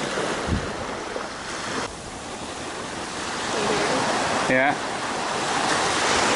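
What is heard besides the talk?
ocean waves on a beach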